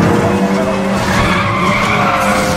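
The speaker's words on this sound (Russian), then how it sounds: "Вот туда, хороший дрифт получился." Loud, sustained tire screech of a car drifting through a narrow road in the racing game Need for Speed: The Run, with a roaring engine underneath throughout.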